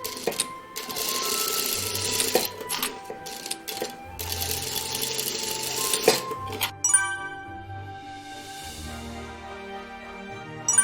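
Sewing machine stitching a collar onto a flat-collar dog dress with a presser-foot seam allowance of 0.5 cm, running in bursts of low buzzing whir separated by clinks and brief pauses, close and clear.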